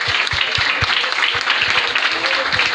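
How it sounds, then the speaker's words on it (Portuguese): A congregation at a church missions congress clapping together in a steady, rhythmic beat, loud and close, with voices and cheering over the applause. "Vamos aplaudir a Deus."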